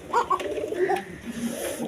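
Pigeons coo at a pigeon farm in Bangladesh where birds, eggs and chicks are sold. Several short throaty coos sound close by, with a faint rustle behind them and no talking.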